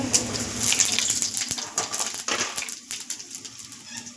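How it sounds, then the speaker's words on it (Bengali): Panch phoron spices hit hot oil in a wok, setting off a close, crackling sizzle with sharp pops that gradually thins and fades over a few seconds. "এবার কড়ার মধ্যে দিলাম একটু পাঁচফোড়ন"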